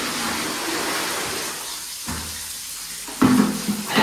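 Water gushing from taps on both sides into a bathtub at a farmhouse, a steady rushing pour that dips midway and then surges again with splashing.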